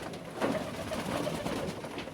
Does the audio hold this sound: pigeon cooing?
yes